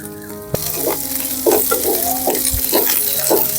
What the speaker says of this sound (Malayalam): ചെറിയ ഉള്ളി ഒന്ന് റോസ്റ്റ് ചെയ്തെടുക്കാം നമുക്കിനി കുറച്ച് കറിവേപ്പിലയും കൂടെ ഇട്ട് കൊടുക്കാം